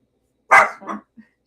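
A single dog barks sharply and close by, two quick barks followed by a short soft yelp, loud against an otherwise quiet room.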